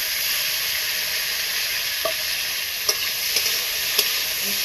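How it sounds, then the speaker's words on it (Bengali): Steady loud sizzle of bitter gourd frying in a pan, a constant hiss broken by a few faint taps, close by and without voices. "দিয়ে উচ্চটা ভাজা বসিয়ে দিই"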